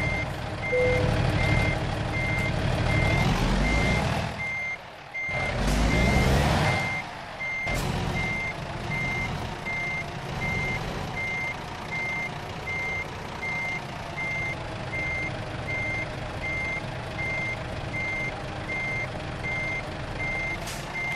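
Reversing alarm of a truck with a long forestry-machinery trailer in the driving game American Truck Simulator, a steady, evenly spaced series of loud beeps over engine rumble and occasional air hiss, with no talk.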